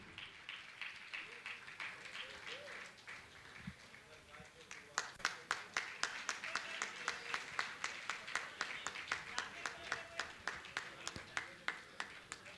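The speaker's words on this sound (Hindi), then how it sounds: "मैं चाहूँगा ऐसे श्रावक परिवार के लिए आप जोरदार ताली बजाएंगे" An audience at a Jain religious gathering in Guwahati claps on request, starting as scattered clapping and swelling after a few seconds into steady, loud applause with sharp, fairly rhythmic claps. Voices murmur faintly under the clapping.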